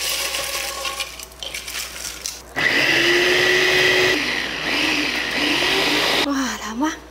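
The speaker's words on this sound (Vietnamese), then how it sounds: "Giờ mình bỏ vô máy xay, mình xay nó cho nó nhuyễn ra nha." A kitchen blender grinds cooked shrimp shells, starting abruptly after a quieter opening and whirring loudly with shifting pitch. It cuts out near the end and then briefly restarts.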